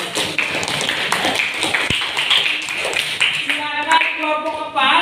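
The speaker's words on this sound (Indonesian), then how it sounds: "Oke, beri tepuk tangan buat" A class claps for a group during a teaching practice session, giving a dense, continuous patter of many hands. Toward the end it fades under a background voice and a tonal sound.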